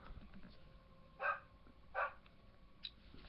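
Dog barks from a video game scene: two distinct bark bursts a moment apart, then a shorter faint one, moderately loud over a quiet low background hum.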